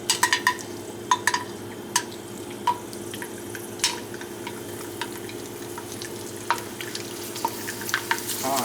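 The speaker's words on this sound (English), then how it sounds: "The cool thing about it is that you fry it and then it explodes into something way bigger than this" A Mexican wheat snack fries in hot oil and puffs up, with a bubbling sizzle broken by sharp crackles and pops scattered irregularly across the clip, close and moderately loud.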